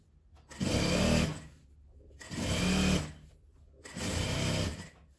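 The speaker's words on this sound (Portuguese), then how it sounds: "E vou costurar ela bem em cima dessa costura." A sewing machine stitching a pillow cover runs in three bursts of steady mechanical whirring, each lasting about a second, separated by short pauses, loud and close with no talking.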